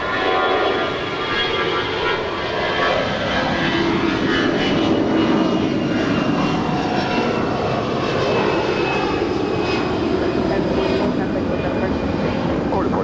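Delta Airbus A320-200 jet airliner, 29 years old, at Los Angeles International Airport, a loud sustained engine roar with a broad rushing drone and faint whine, holding steady throughout.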